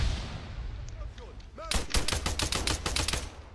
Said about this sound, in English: Shooting them right through the bushes as they come through.